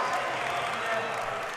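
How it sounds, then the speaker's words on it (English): A packed arena crowd at the 2025 NCAA men's volleyball semifinal between UCLA and Hawaii cheers and applauds after a point, a dense, steady roar with commentary over it. "You can hear it, Hannah, every single point that Hawaii scores, the crowd going wild."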